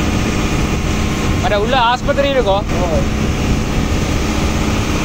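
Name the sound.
boat engine running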